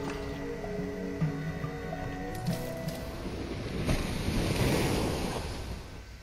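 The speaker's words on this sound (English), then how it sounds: "Oh, that's the ocean." Ocean waves on a shore, a continuous broadband roar of surf with wind noise swelling and washing in, loud and steady throughout with no speech.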